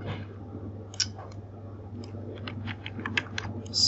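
Keys pressed for Ctrl+C and Ctrl+F shortcuts on a computer keyboard while working in Adobe Illustrator: a handful of light, separate clicks in the second half over a steady low hum, with no talking.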